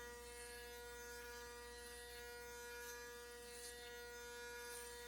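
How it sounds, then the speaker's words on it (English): An electric razor hums steadily and fairly quietly through the whole stretch, a constant motor buzz with no talking over it. "back to shaving"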